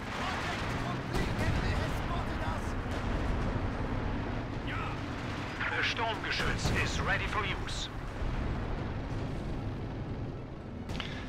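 Artillery fire rumbles through a Company of Heroes 2 battle in Lienne Forest, with heavy booms and blasts rolling on continuously while someone talks over the din.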